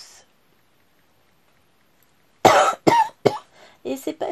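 After a couple of seconds of quiet, a burst of several rough coughs close by, followed by brief voice-like sounds.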